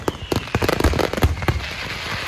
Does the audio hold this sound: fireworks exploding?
yes